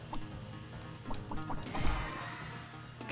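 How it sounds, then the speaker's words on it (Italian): Chickens cluck in the video game Chicku, several short bursts scattered over a steady background of game music and noise, moderately loud with no voices. "Altri polli."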